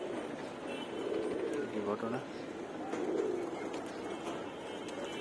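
Pigeons coo softly in a loft while someone talks steadily over them, with a faint rustle of birds in the background.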